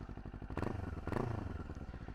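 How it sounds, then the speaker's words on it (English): A Kawasaki Ninja 500 fitted with a LeoVince GP Corsa EVO exhaust, heard close as a fairly quiet, low idle with two brief throttle blips rising and falling. "Sounds a little bit deeper than the stock exhaust"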